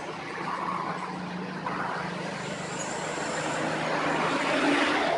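Cars and buses at the Suramadu Bridge toll gate form a steady, close roar of road traffic that swells slightly toward the end, with no voices.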